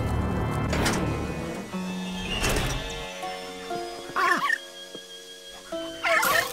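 A cartoonish dog barks and yips in Luigi's Mansion 2 HD: several short, sharp calls are spread over a few seconds, with game music and effects underneath.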